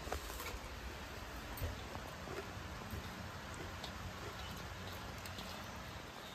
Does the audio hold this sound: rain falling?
yes